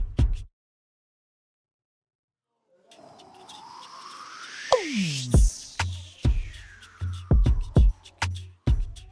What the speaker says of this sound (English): And I have a riser and an impact here.